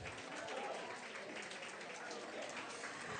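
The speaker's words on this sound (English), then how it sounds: "Let's give another round of applause to the amazing panel." A crowd applauds a panel at a small business meetup, a soft, steady patter of many hands clapping that sounds distant and fairly faint.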